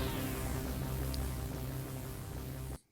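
A synthesizer patch sustains a dense, full-spectrum tone with a long tail and a bouncy delay, holding steady for almost three seconds before cutting off abruptly.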